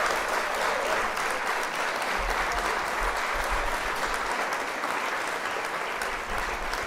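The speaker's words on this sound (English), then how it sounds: "Round of applause for him." Steady, sustained applause from a crowd, dense clapping that carries on for several seconds without a break.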